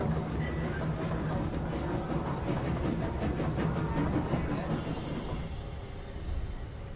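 A video game train rolls along with a steady rumbling hum and faint metallic whine, followed by a high squeal toward the end; a voice talks over it.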